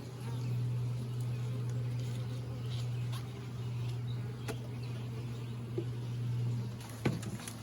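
Honeybees drone steadily in a hive box as they work through queen excluders, a continuous low buzz with occasional faint knocks and a sharper tap near the end.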